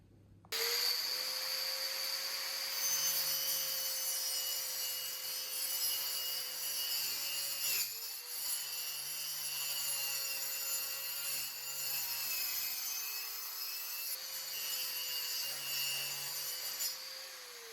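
A plastic template cut out during a front lip repair on a Toyota JZX90, heard as a continuous, whining tool drone with a steady tone and two brief dips, fairly quiet and uninterrupted, with no talking.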